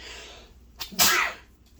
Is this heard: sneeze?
yes